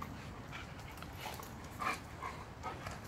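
Belgian Malinois dog whimpering faintly in short high whines, a few brief cries over a quiet outdoor background.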